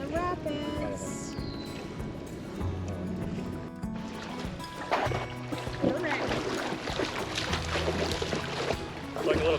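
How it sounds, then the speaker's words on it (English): A canoe runs down rapids on Tennessee's Duck River: steady rushing, splashing water fills the scene, with paddlers' voices mixed in over the churn. "Down the rapids."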